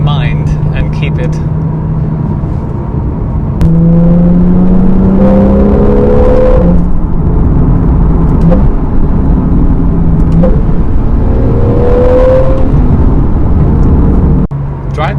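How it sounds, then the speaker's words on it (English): A Porsche 911 GTS (991.1) sports car engine revs and drones up close from inside the cabin, rising through manual gear shifts with audible pitch sweeps, loud and continuous. "I thought I should take the car for a spin"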